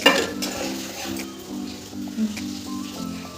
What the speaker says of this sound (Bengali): এবার দিয়ে এটা ভালো করে একটু কষিয়ে নেবো মশলাটা